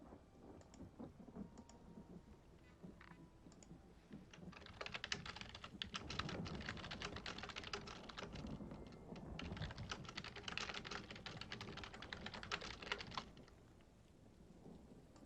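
Keyboard typing, a dense run of quick clicking keystrokes, close and moderately loud through the middle of the stretch, fainter and sparser at the start and end, with no talk.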